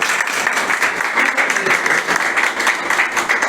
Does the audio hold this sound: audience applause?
yes